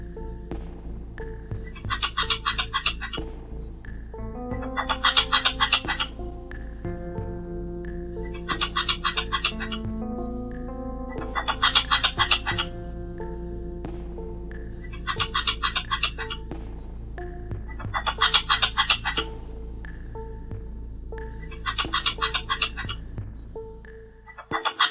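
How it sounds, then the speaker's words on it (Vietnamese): Red-bellied squirrel mating call repeats in regular bursts of sharp, rapid chattering squeaks every couple of seconds, loud and close over a steady low hum and a soft melodic backing. "Đây là tiếng sóc bông dạ đỏ, sóc bụng đỏ đuôi bông."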